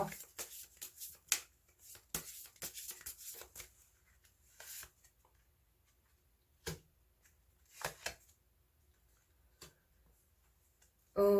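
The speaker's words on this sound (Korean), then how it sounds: "그럼 조언점 카드 한 장 더 뽑아보도록 할게요" A tarot card is drawn from the deck during a reading, giving soft papery slides and taps in scattered bursts, then a few isolated flicks after a quiet gap, close and faint.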